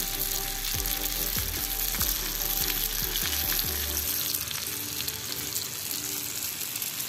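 Red snapper fries in hot oil on a stone pan, a loud steady sizzle with a few clicks and taps early on.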